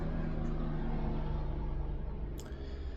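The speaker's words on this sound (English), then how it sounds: "sorry, that's a plane." An airplane passes overhead outdoors, a steady, broad engine rumble that lingers throughout at moderate loudness with no other sounds standing out.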